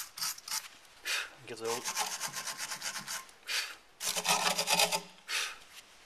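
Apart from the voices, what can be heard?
wire brush cleaning VW Golf brake hub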